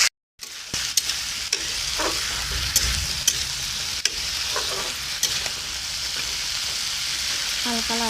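Mixed vegetables, including yardlong beans, sizzle steadily in a hot pan while a spatula gives them light stirs, with scattered scraping clicks over a continuous close hiss.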